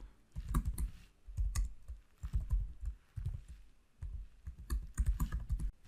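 Fingers type a query on a computer keyboard in uneven bursts of quick, close clicks with brief pauses between words, no voices.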